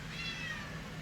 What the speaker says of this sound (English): This is Yubata and Zaniba, 2 little house Panther kittens.